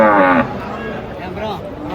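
A female Javanese banteng moos loudly at close range, one long low-pitched call, while people talk faintly in the background during unloading from a truck.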